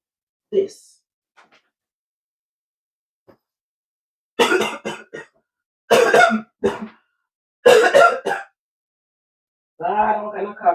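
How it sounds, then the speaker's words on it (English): A woman coughs in a quiet room, several harsh close bursts in short clusters separated by silence, with a throat clearing and brief speech near the end. "Ah, I'm kind of coughing."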